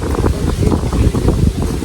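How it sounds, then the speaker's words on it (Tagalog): Strong outdoor wind gusts buffet the microphone in a rural area as the weather turns overcast before rain, a loud, rumbling roar that surges and eases in uneven pulses, with no voices. "Guys, grabe ang lakas ng hangin."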